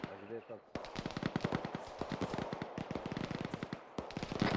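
A 12.7mm .50-calibre heavy machine gun fires in the video game Arma 3, loud, sustained automatic bursts of rapid reports after a brief voice at the start, with short pauses between bursts.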